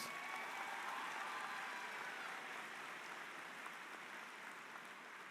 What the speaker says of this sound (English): So please give a big round of applause to our student speakers.